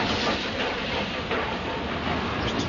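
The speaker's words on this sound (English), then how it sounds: "it's a non-corridor train." A non-corridor royal train slowing to a stop, a steady rumbling roll with a faint clickety-clack of wheels and a soft hiss, continuous and moderately near.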